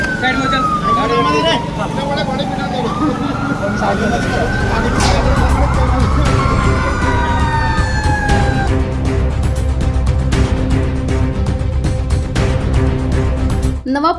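A loud fire engine siren wails, sweeping up and down for several seconds, then gives way to a steady rumble of traffic and engine noise, at a grocery shop fire in Navapur.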